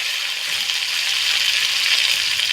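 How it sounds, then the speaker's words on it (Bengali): Potatoes and brinjal frying in hot oil in a pan, a steady, bright sizzle that stays even and close for the whole stretch, with no voices. "আলুগুলো একটু ভেজে দেবো সঙ্গে বেগুনগুলো ভেজে নেব"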